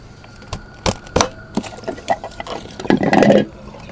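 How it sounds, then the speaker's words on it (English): Water drains from a pool pump and filter through an opened bleeder valve, heard as scattered close drips and splashes that build into a short trickling gush near the end. "open up the bleeder valve to allow the pump to drain"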